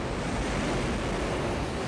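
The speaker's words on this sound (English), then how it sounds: "Monster waterspout." Waves and wind over open water beneath a large waterspout, a steady broadband rush of surf and wind noise filling the whole moment with no pauses and no voices.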